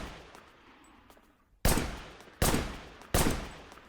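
Gunfire in the action game Wanted: Dead: three loud, sharp shots spaced under a second apart, each with a short ringing decay, after a quieter stretch of low background ambience.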